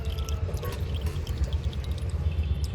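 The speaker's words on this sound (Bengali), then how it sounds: "একটা পাত্রের মধ্যে ঢেলে নিচ্ছি" Homemade coconut oil is poured from a pan into a vessel, making a soft, continuous trickle with faint drips over a low background hum, quiet and close.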